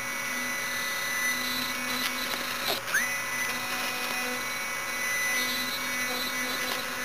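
A brushless motor from a floppy drive spins at very high speed, giving a steady high whine with sharp harmonic tones and a quick pitch sweep midway, close and continuous.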